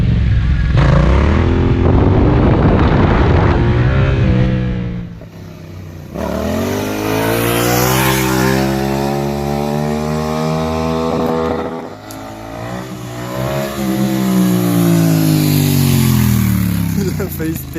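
A motorcycle engine revs hard and loud during a wheelie, its pitch rising and falling in surges, with someone talking over parts of it.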